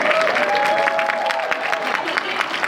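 Applause from a convention panel audience at an anime event, a steady wash of many hands clapping that fills the room, with faint crowd murmur and a little talk mixed in.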